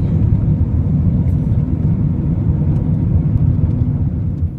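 Car driving a long gravel road through forest in a Canadian provincial park area, a loud continuous low rumble of tires and engine with no breaks.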